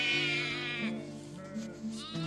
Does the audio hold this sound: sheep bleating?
yes